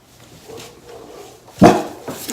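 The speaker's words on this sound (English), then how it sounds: "Everyone's gonna be distracted by the dog." A dog gives one sharp, loud bark-like burst partway through, set against faint room noise and quiet shuffling.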